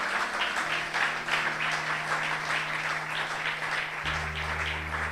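A church congregation applauds during a Spanish-language sermon, a steady wash of many hands clapping at moderate distance, with a low sustained organ or keyboard tone underneath.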